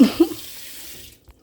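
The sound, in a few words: water running to rinse out a smoothie blender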